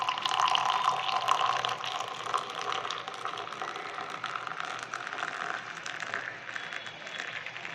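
Fenugreek decoction poured into a glass, giving a continuous close-up watery splash and trickle that stays fairly loud and gradually softens toward the end.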